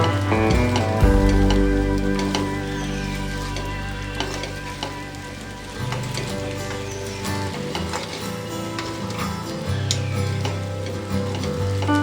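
Sago khichdi being sautéed in a pan with ground peanuts, a steady close sizzle and frying crackle with occasional stirring scrapes, continuous and fairly quiet, background music running underneath.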